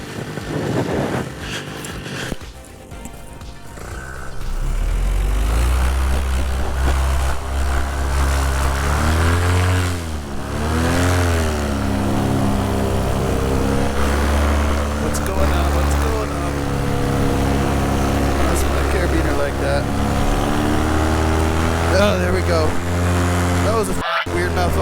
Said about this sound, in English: Motor's fired up.